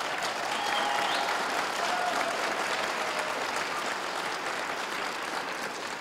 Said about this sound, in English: maybe the audience wants to give them a round of applause